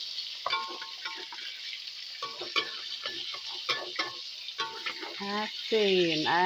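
Salted fish fries in a pan with a constant hissing sizzle, broken by frequent clinks and scrapes of a utensil, while a person's voice speaks faintly underneath toward the end.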